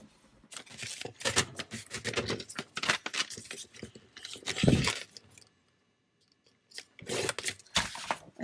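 Scissors cutting paper for a journal portfolio project, a series of close, crisp snipping strokes in uneven clusters with a brief quiet pause before more cuts follow.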